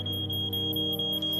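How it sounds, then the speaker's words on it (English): Smoke detectors going off late at night in a home, a piercing, steady electronic tone overlaid with rapid pulsing beeps, loud and continuous with no voices. "We hear the smoke detectors go off."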